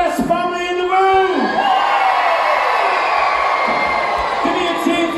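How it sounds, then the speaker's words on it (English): An audience at a family show at a holiday resort cheers and whoops loudly in a continuous roar. Shouts and high voices rise and fall throughout the clip. "give me a big cheer if you are the best family in the room!"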